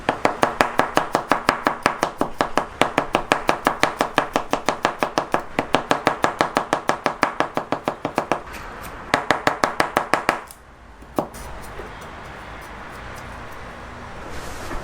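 Rapid, steady knife chops on a cutting board as garlic is minced for Thai khao man gai, a close, even rhythm of sharp taps that slows and stops near the end.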